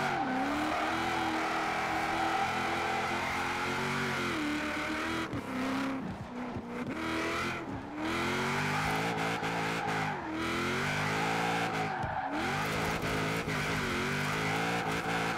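A Cadillac XTS limo revs hard while drifting in the racing game Forza Horizon 4, its engine droning and rising and falling with shifts, tires squealing through slides, steady and prominent with no talk.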